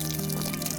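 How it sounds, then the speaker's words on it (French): Fresh water runs from a village tap in a steady, close wash of flow lasting under a second, with no talking over it. "aujourd'hui, on ouvre le robinet. Il y a de l'eau fraîche qui vient."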